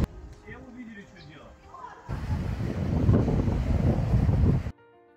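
Strong wind buffets the microphone in a steady roar for a few seconds, after a quieter stretch with a voice speaking faintly.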